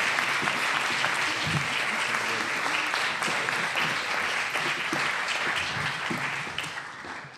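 An audience bursts into sustained loud applause to welcome speaker Mario Morino, a dense wash of clapping from many hands that holds steady for several seconds before starting to taper.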